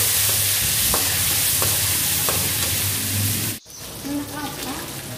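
Ground spices sizzle and crackle steadily as they are stir-fried in a hot pan, a dense close frying hiss with faint scraping, cut off abruptly near the end, leaving quieter kitchen sounds.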